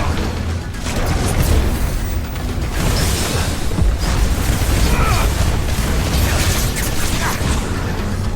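Fire Raga spell detonating in Final Fantasy XVI, a loud sustained roar of rumbling explosions and crackling bursts that fill the whole span.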